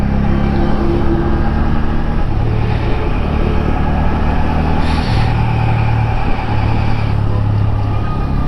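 A motorcycle's engine and exhaust drone loud and steady while it is ridden, the pitch shifting gently as the throttle changes, with no one speaking.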